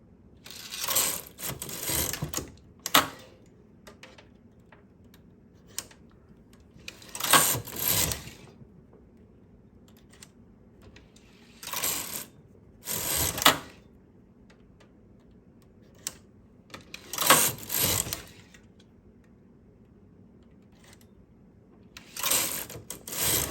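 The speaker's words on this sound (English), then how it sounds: "my carriage is on the left side and I'm pushing this needle forward. And I'm knitting another row" A knitting machine carriage is pushed across the needle bed to knit another row of a summer top's back panel, producing several separate bursts of clattering, ratcheting mechanical noise with quiet pauses between passes and no talk.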